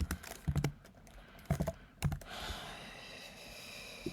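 Computer keyboard typing in short bursts of sharp clicks with brief pauses, followed by a soft, steady background hiss as keys tap sporadically; close and fairly quiet.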